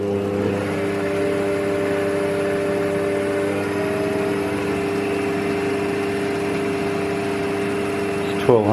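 A replacement electric lathe motor runs at a steady speed, giving a continuous close hum with strong tonal whine and no change in pitch, then a brief clunk at the very end.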